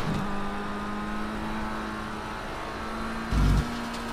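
A racing car drifting through a corner in Project CARS 3, a steady, close engine drone holding one pitch. A brief louder rough burst comes near the end, with no talking.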